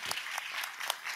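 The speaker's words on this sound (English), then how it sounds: "Please, a round of applause for him." Brief, faint applause from a conference audience at a migration dialogue session, scattered claps forming a thin steady patter for about a second.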